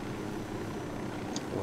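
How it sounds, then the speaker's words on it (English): A helicopter flies in Tom Clancy's Ghost Recon Wildlands as a steady, close rotor and engine drone that fills the whole moment without a break. "That's just my helicopter taking off."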